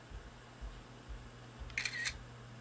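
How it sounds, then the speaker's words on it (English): A single iPhone camera shutter click sounds briefly and faintly over a low background hum. "You hear the camera sound?"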